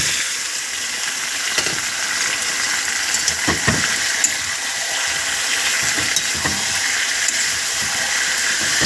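Meat sizzles and fries in a hot pan, a steady loud hiss with a few sharper pops and crackles scattered through, with no talking.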